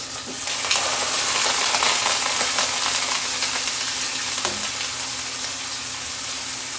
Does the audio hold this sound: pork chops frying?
yes